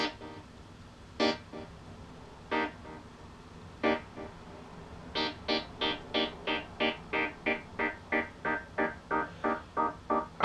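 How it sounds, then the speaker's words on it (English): Synth note run through an auto filter and panned back and forth between speakers, heard as a string of short, evenly pulsed tones that start sparse and then repeat steadily, each bright burst swelling and fading. "Tampered with the auto filter on this particular synth"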